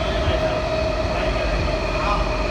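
Riding in the third car of a Washington Metro Kawasaki 7000-series subway train on the Red Line: a constant loud rolling rumble with a steady high whine from the motors, continuing without a break.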